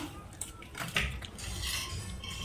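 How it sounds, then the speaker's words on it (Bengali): A sharp boti blade cuts through a snakehead fish, with faint scraping and a few light clinks and knocks over a low background hum, quiet and close. "মাছটাকে খুব আস্তে আস্তে ধরে ধরে কাটছি"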